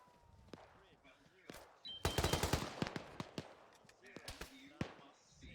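Repeated bursts of machine gun fire during a military field training exercise, sharp cracks in rapid clusters and scattered single shots at moderate distance, with radio voices talking in the background.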